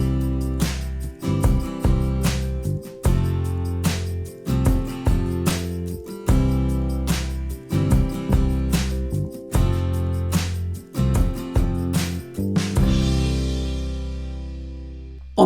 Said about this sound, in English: Here we mute out all of the strings with the karate chop part of our picking hand so that when we strum the strings, we get a percussive pick sound.